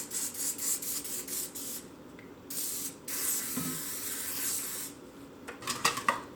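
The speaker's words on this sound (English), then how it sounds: "we're gonna cooking spray the cast iron skillet" Cooking spray hissing onto a cast iron skillet in short aerosol bursts, close and clear, with pauses between sprays and no talk over it.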